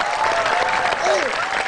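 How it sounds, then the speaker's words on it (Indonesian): An audience at a stand-up comedy show claps in a brief, loud, dense burst, with a few cheers and voices mixed into the applause. "Tepuk tangan buat Maison dong."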